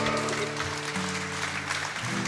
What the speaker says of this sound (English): give yourselves a round of applause on that one.